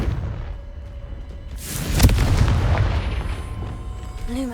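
A Confringo fire spell blasts in the Hogwarts Legacy video game: a loud, booming explosion swells up and rolls on with a rumbling tail over steady game ambience, followed by a short rising magical tone.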